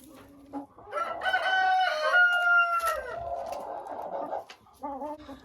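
Hens cluck and a rooster crows loudly nearby in a backyard enclosure of chickens, the crow stretching over a couple of seconds with short clucks before and after.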